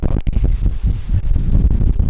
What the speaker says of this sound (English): we're probably getting 65 mile an hour gusts now